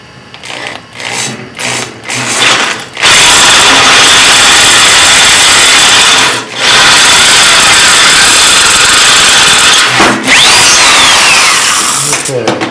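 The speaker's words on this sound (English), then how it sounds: "We're going to drill our pilot hole 11/32." A power drill whines loudly and steadily through wood for several seconds, drilling an 11/32-inch pilot hole, stopping briefly twice before starting again, after some short tapping and handling noises.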